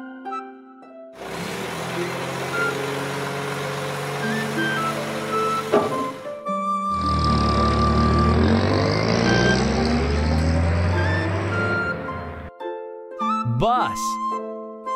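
Animated cartoon garbage truck: a loud engine drone with a steady musical backing, then a heavier rumbling vehicle sound, ending in brief sliding tones; no one talks.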